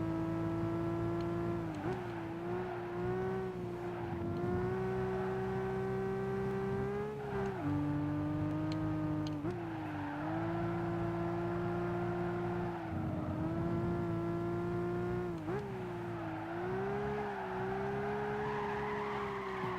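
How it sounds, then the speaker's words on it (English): A BMW Z3 drifting through corners in Gran Turismo 5, its steady engine drone rising and falling with throttle while tires squeal and scrub through repeated long slides, loud and continuous. "Big drift from the Z3. This thing is just a smoke show at times."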